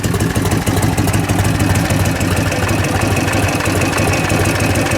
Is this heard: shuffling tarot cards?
no